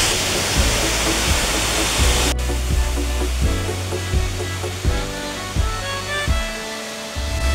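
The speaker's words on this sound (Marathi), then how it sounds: "आता आम्ही हिडन धबधब्यावर पोहोचलेला" Steady, loud roar of falling water, broadband and constant, with a few low thumps breaking through the rush.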